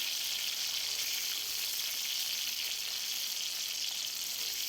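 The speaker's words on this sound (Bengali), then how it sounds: "আর পেঁয়াজটা আমি একটু ভেজে নিচ্ছি" Onions sizzle steadily in hot oil in a pan, a continuous bright frying hiss that stays even throughout with no voices.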